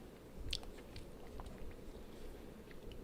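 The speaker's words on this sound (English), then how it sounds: "I know y'all can hear me like swallow, chew, all that stuff" Close-miked chewing and swallowing: soft wet mouth sounds and a few brief crunchy bites over a steady low background hum, quiet and intermittent, with no talking.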